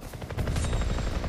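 A helicopter in the video game Far Cry 3 thumps with loud, steady rotor beating, close and continuous over a short stretch with no speech.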